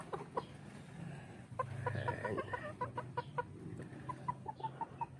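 Backyard chickens cluck in short repeated bursts, fairly close and moderately quiet, with a busier patch of overlapping clucks partway through.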